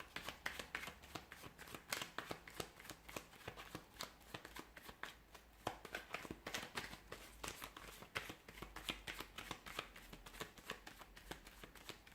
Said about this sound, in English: give the cards a shuffle and see what is their next move